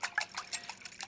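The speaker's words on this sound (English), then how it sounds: "And then you just want to whisk that up." Whisk beating ingredients in a bowl while puff pastry is prepared for a stained glass tomato tart, a quick run of light metallic clicks and taps against the bowl, soft and close.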